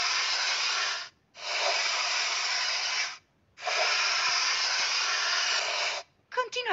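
Spray painting rusty tractor parts in a kids' truck game animation, three long steady hissing bursts separated by short pauses, loud and close, ending with a brief chirpy tone.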